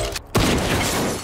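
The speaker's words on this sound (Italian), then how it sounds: "Lo sparo del fucile spaventa la selvaggina." A single rifle shot during a hunt goes off as a sudden loud blast after a brief hush, its heavy boom rolling on and decaying over the following second.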